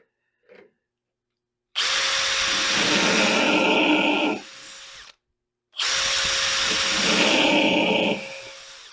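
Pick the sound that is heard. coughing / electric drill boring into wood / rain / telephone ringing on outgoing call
electric drill boring into wood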